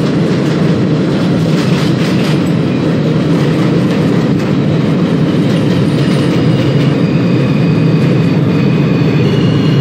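An R160 subway train on an express A route in the OpenBVE simulator runs loud and steady, with continuous rail roar, rhythmic clickety-clack and a faint wheel squeal.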